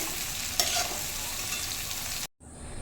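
Prawns fry in mustard oil in a wok with a steady, close, dense sizzle that stops abruptly near the end, followed by a quieter hiss.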